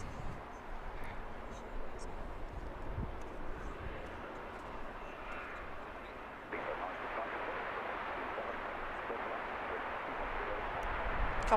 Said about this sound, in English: Coming up next, we have an A320 British Airways coming in from Hamburg